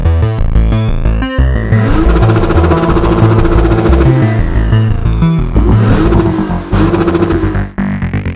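A 2013 Lexus GS 350 F Sport with a 3.5-liter 60-degree DOHC V6 revs hard and accelerates close by, a loud rising engine note with a brief lift and another surge before it fades.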